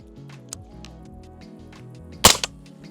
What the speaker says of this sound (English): here's the first shots. I'm at 10 yards right now, and here it goes.